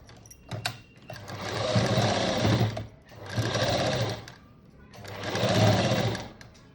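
A sewing machine stitches the waistband onto a boat-neck blouse in three steady whirring bursts, each a couple of seconds long, with brief pauses between them and no talking.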